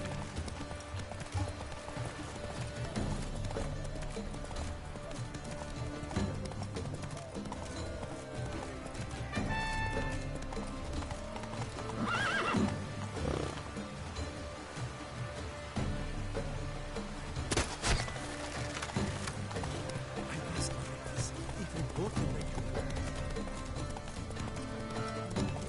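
In The Witcher 3, Geralt's horse Roach gallops with a fast, continuous clip-clop of hooves over the game's ambient soundscape, steady from start to finish.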